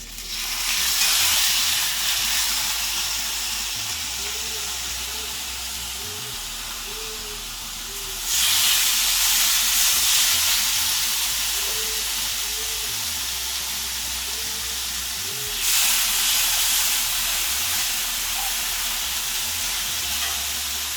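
Food sizzles steadily in avocado oil on a hot cast-iron pan, a loud broadband hiss that surges in bursts about every seven seconds, with no talk over it.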